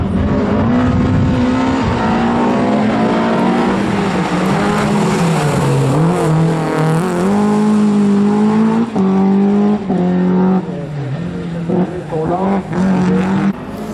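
Race car at a Larvik hill climb, its engine roaring loud and close as it revs and shifts through gears, pitch rising and dipping, with a voice heard faintly beneath.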